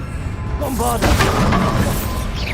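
A Bombarda spell explosion in the Hogwarts Legacy video game: a sudden loud crashing boom with shattering debris, followed by a rumbling tail over continuous game noise.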